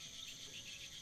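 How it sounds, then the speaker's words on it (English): Cricket chirping inside a barrel in a point-and-click adventure game, a quiet steady high trill lasting about a second with nothing else over it. "I think I can hear a cricket chirping in the barrel."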